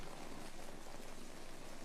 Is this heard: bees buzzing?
no